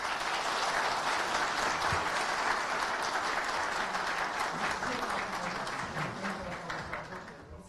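Sustained applause from a crowd at a Ministry of National Education handover ceremony, dense and loud throughout before tapering slightly at the end, with speech faintly underneath.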